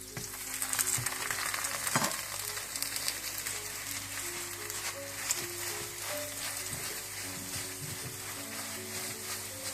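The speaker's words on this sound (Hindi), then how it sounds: "एक तरफ से पकने के बाद आप फिर मक्खन डालें और इसको पलट कर दूसरी साइड भी पका लें।" A layered lachha paratha fries in butter on a pan with a steady, close sizzle and occasional light clatter of a utensil, continuing evenly without speech.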